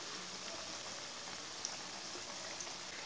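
Cabbage pakoras frying in hot oil over medium heat give a steady, soft crackling sizzle with scattered tiny pops, faint and uninterrupted.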